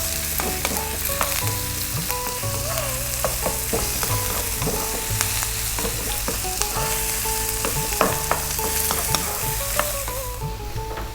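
Finely chopped onion with chili powder and spices fries on high heat in a pan, a dense continuous sizzle broken by frequent scraping and stirring clatter, close and loud with no talk.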